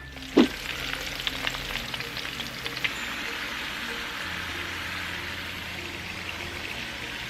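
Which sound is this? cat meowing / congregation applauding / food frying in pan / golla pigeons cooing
food frying in pan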